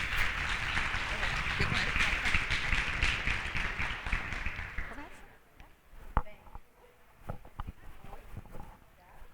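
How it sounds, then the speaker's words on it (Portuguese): Audience applause at a UX talk, dense and steady for about five seconds before fading, followed by a few scattered sounds under quieter talk. "Uma salva de palmas."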